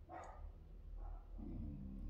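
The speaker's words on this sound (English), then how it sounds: "My dog's name is Facebook." A pet dog barks a few times, muffled and faint, against a steady low rumble of background noise.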